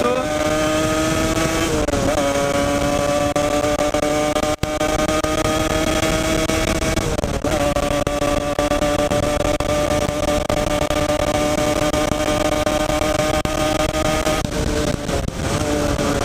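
Continuous engine drone of a motorcycle on the move, steady pitch with a few gear shifts, loud and close throughout.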